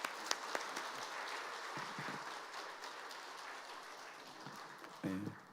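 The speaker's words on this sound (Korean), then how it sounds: "이 시간 목사님 나오실 때 크게 박수로서 환영하도록 하겠습니다." A church congregation at a worship service applauds to welcome a pastor, a moderate, continuous patter of clapping with a few sharper claps early on and a brief voice near the end.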